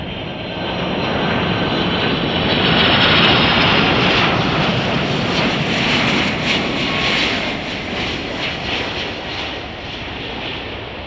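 An Atlas Air Boeing 747 landing at Chicago O'Hare roars loudly and steadily, its four-engine rush building to a peak then easing slightly as it passes, with no voices.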